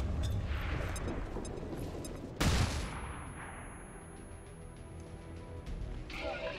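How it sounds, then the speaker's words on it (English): A flashbang grenade goes off in the video game XCOM 2: War of the Chosen as one sudden, loud, sharp burst partway through. It rises over a dense, rumbling game soundscape that keeps going before and after. "Throwing flashbang."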